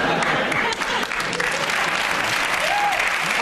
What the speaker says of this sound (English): Yeah, you may applaud